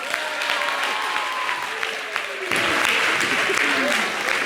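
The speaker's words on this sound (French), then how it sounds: "Merci de l'applaudir" A theatre audience applauds a comedian in a dense, steady roar of clapping that swells louder halfway through, with a voice faintly audible underneath.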